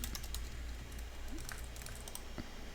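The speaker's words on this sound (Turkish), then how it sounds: "Bakın yine aynı e-mail adresini yazıyorum." Computer keyboard keys clacking in a steady stream of typing as an email address is entered, close and clear over a low background hum, with no talking.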